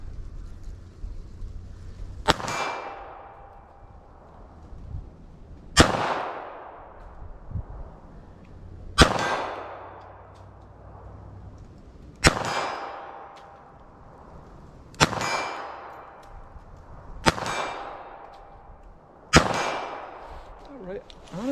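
.32 pistol fired at a target 25 yards away, six sharp separate shots spaced a few seconds apart, each with a short ringing decay, heard outdoors with no talking.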